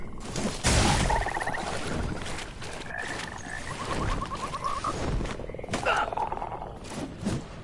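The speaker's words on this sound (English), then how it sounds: "There's all the frogs." Frogs croak repeatedly in the dark fantasy video game Mortal Shell, rasping rattling calls scattered over a busy rumbling game backdrop with occasional thuds, fairly close and moderately loud.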